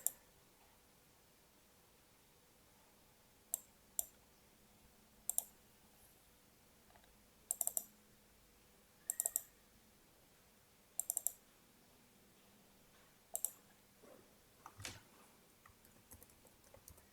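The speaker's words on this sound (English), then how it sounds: "So I'm creating a folder here by clicking it." Sharp mouse clicks at a computer, several single and double clicks spaced a few seconds apart over quiet background hum, with a faint softer sound near the end.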